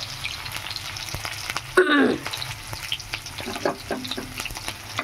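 Onion frying in a pan with two bay leaves, a steady close sizzle with a brief louder hiss and clatter midway as the leaves go in, no talking.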